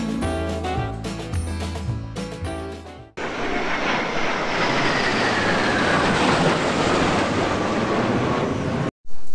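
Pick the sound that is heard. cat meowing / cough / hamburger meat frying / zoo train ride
zoo train ride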